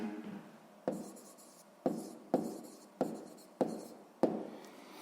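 A pen writes out the answer to a sixth-grade math exercise on paper, giving a series of about seven short, close scratching strokes separated by brief pauses.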